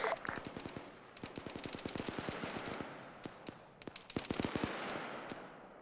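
Machine gun fire in a video game during a squad field exercise: repeated rounds in rapid bursts with short pauses, some loud and close, others softer and farther off.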